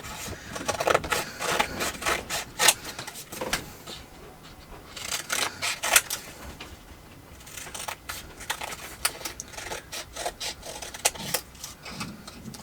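Scissors snip through paper in bursts of crisp, close cuts with short pauses between runs of snips, quiet and alone, with no voices.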